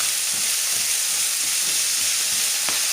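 Vegetables and meat frying in a pan for a meat-and-vegetable bake, a steady close sizzle filling the whole clip with no voices.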